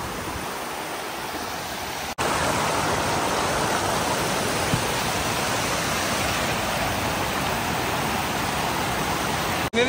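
Waterfall at Valavali village in the mountains, a steady dense roar of falling water that stays loud and unbroken throughout, with a brief dip near the start and end.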